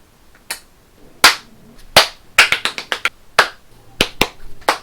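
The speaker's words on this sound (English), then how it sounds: "Stop clapping." Several sharp, isolated claps ring out at irregular intervals, loud and close, with brief quiet gaps between bursts and a quick flurry in the middle.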